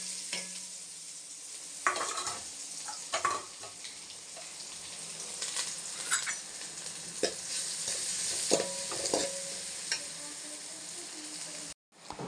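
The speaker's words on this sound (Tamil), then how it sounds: "வெங்காயம் நல்லா வதங்கிருச்சுங்க." Onions, green chili and curry leaves fry in oil with mustard seeds, a soft continuous sizzle broken by repeated scraping and clattering stirring strokes nearby.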